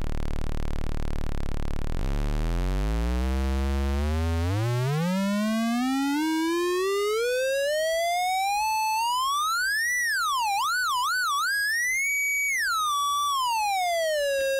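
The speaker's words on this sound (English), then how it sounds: "So this is just what the oscillator sounds like." A 4046 VCO oscillator plays unprocessed and raw: a buzzy low tone sweeps steadily upward, then wobbles and warbles up and down in pitch like a siren before settling, clear and alone for about fifteen seconds.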